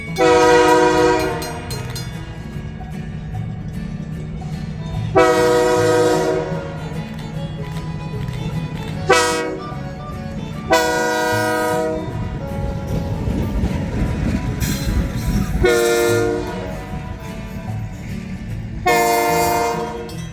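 An Alexander Railroad locomotive sounds its horn in long, loud blasts near Piedmont, North Carolina, with several separate blares over the steady rumble and clatter of the passing train.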